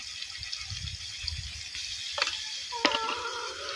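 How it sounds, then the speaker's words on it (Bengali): Chili, onion and garlic-onion paste frying in oil, a constant close hiss of sizzling with soft stirring thumps and a couple of brief bright scrapes near the end, no voices. "এবার এইগুলো দিয়ে আমি কিছুক্ষণ ভেজে নিব"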